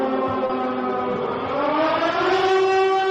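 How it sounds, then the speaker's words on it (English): A loud, steady siren wails continuously with a slowly rising pitch, blaring alone without any voices. "We need a siren blaring."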